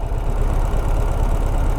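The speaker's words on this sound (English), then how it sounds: "Right now it's idling at 1050-ish, right? 1050 RPM." A Ural motorcycle engine idles at about 1050 RPM, giving a steady, close, low rumble that holds evenly throughout with no talking.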